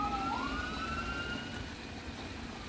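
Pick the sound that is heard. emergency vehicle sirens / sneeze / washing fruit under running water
emergency vehicle sirens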